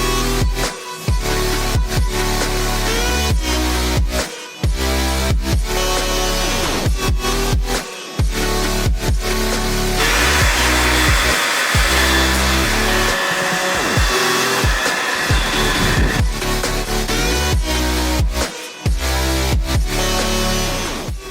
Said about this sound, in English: So I'm going to be using a hairdryer to make the vinyl a little bit more stretchy to pull it off.